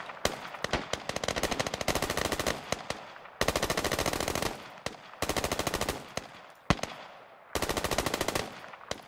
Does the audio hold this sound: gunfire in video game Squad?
yes